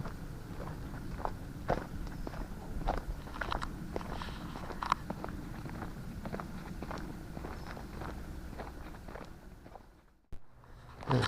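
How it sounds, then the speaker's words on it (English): Footsteps crunching steadily through woodland, a regular walking rhythm of close, distinct steps over a continuous low rumble, ending with a brief quiet gap. "Just hear our footsteps"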